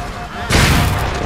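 A sudden loud burst of Halo 4 gunfire erupts midway and holds as a dense, booming blast, with game ambience beforehand.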